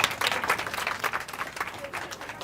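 An audience applauds competitors at a state fair rabbit showmanship class, a moderate, fairly quiet burst of many hands clapping, with some voices mixed in.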